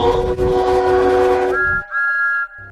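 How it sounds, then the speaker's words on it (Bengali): A train in the ChooChoo Charles video game starts to move: a rumbling, clattering start under a tonal whistle, then the noise drops out and leaves clear sustained whistle tones, with no speech. "কিছুক্ষণের মধ্যেই ট্রেনটা যাওয়া শুরু করে দিয়েছে"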